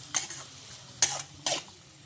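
Onions and tomatoes are stirred in a pan for a village-style chicken curry, with three quick scraping stirs over a faint sizzle and no talk.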